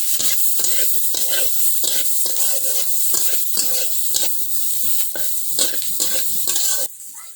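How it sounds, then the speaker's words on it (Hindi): Onion fries in oil in a pan over a village-style fire, a loud continuous sizzle broken by rhythmic stirring scrapes that repeat every half second or so, close and dense throughout. "पियाज पकई देली"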